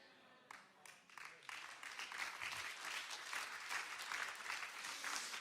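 Church congregation clapping during a pastor's sermon, starting with a few scattered claps and building into steady, bright applause from many hands that carries on to the end.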